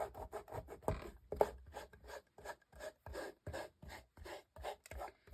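Fingertip rubbed back and forth over a new clear acrylic stamp to condition it makes soft, close, rhythmic rasping strokes, about a dozen short swipes with brief gaps.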